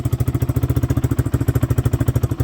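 A Geon Scrambler 250 motorcycle idles while warming up, its single-cylinder engine thumping in a fast, even, steady rhythm, loud and close with no voices over it.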